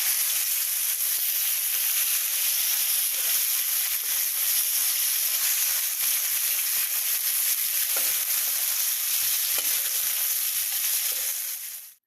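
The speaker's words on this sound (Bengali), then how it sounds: "এখন মাছটা ভেজে নেব" Tilapia fries in hot oil with a loud, dense, unbroken sizzle and scattered crackling pops, close up for about twelve seconds before cutting off, with no talking.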